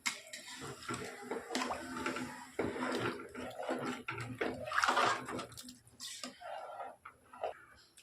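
Water pours steadily into rice for chicken biryani, a continuous splashing and trickling under intermittent talk throughout.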